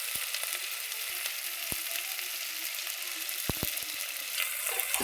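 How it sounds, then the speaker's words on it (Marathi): Eggplant pieces with red chilli powder and turmeric sauté in oil with a steady, bright hiss, broken by a few sharp ticks and clicks from a spoon near the pan, and no one speaks. "वांगे त्याच्यात टाकायची. चांगलं तेलात परतायचं काय आपल्याला."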